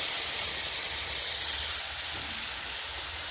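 Masala paste mixed with water is poured into a hot pan while cooking paneer and potatoes, giving a steady, loud broadband sizzle and hiss that holds evenly throughout without talk.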